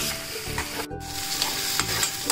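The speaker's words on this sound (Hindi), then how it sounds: "इसे हम स्लो फ्लेम पे भून लेंगे।" Ginger, garlic, green chutney and cumin sizzle in hot oil in a pan over a slow flame, with a steady frying crackle and the scrape of stirring throughout. No voices.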